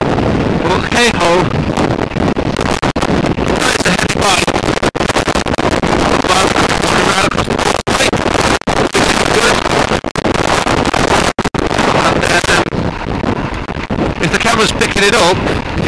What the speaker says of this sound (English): The wind at the moment is putting the bike over at 45 degrees.